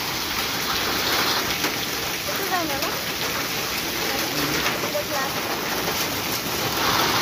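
A hard downpour of rain with hail roars steadily with a rattling patter of drops and hailstones striking surfaces, while a faint voice murmurs beneath the noise.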